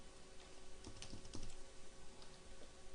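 Quiet typing of Lingo script on a computer keyboard, a scattering of soft key clicks over a low steady room hiss, close but faint.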